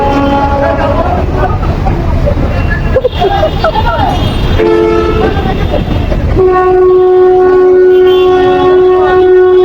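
A train horn blares in long sustained blasts over a loud, steady rumble of rolling railcars, close by and continuous.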